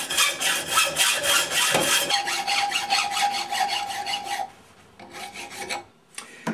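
Hand sawing a 3/8 inch square brass bar, a quick series of rhythmic rasping strokes, close and crisp, slowing and softening before a couple of final strokes.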